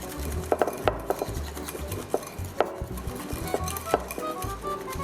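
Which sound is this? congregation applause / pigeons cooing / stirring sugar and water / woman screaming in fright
stirring sugar and water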